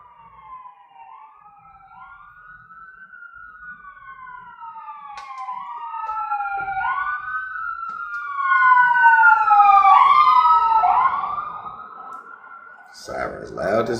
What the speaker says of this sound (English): Sirens loud as hell, boy.